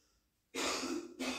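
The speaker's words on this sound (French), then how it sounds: "Ça résonne quand elle tousse" A woman coughs twice, a sharp harsh burst followed by a shorter second one, close and loud after near silence.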